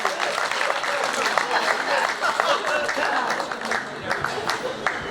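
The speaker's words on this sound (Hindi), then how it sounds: "जोरदार तालियां बजाइए" An audience at a Hindi poetry gathering (kavi sammelan) claps and applauds steadily, a dense, loud wash of hand claps lasting throughout.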